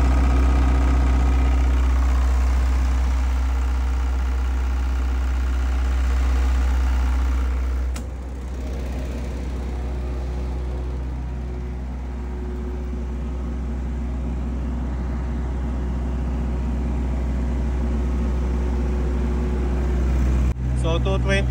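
A diesel generator set idles steadily after refuelling, a loud, continuous low engine drone with a brief dip partway through and a click near the end.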